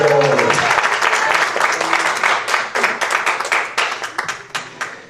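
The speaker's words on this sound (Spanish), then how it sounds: "Dale un aplauso de gloria a ese maestro glorioso, Jesús de Nazaret." A church congregation at an evangelical service bursts into loud applause, a dense wave of close clapping that starts strong and gradually thins out into scattered claps near the end.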